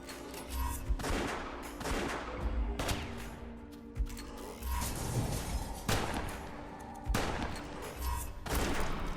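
Repeated bursts of gunfire from the video game West of Dead, with loud close shots about every second or two over a low game background.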